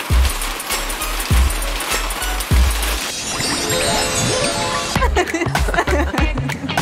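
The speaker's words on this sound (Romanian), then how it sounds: "Hei, începe ploaia?" Rain begins to fall in a live-action recreation of games, with a patter and splash that thickens midway and continues loud and close, broken by a few heavier thumps.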